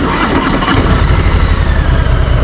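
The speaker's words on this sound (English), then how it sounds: "And then I need to press this button to turn on the vehicle." A motorbike engine is started with its start button and settles into a loud, steady mid-pitched running rumble with a rapid pulsing beat, close by and with no talking.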